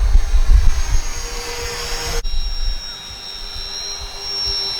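An RC model OV-10 Bronco warbird on its maiden flight drones overhead with a steady engine whine over a low wind rumble, loud at first and then receding into the distance.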